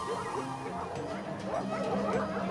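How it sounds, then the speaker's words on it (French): A pack of wild dogs attacks a group of baboons, and several dogs bark, yip and whimper in a messy, overlapping chorus that carries on throughout. The barking stays at mid distance over steady background noise, with no clear talking. "une bande de chiens ennemis déclenche une attaque"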